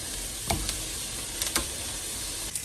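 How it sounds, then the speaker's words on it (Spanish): Chorizo fries in its own rendered fat in a pan, with a steady, even sizzle under a few sharp pops and crackles spread through the stretch and no speech. "La misma grasa que va a sacar el chorizo pues nos va a ayudar a que se empiece a freír."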